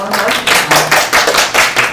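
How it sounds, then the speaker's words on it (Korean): An audience applauds at the BIAF2023 press conference for the 25th Bucheon International Animation Festival, the clapping coming in close, uneven bursts that swell and dip across two seconds. "박수 한번 보내주시죠"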